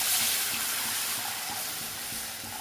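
Millet flour batter hits a pan of sautéed garlic, onion and chillies and sizzles loudly, a steady, dense hiss that eases off slightly as the seconds pass.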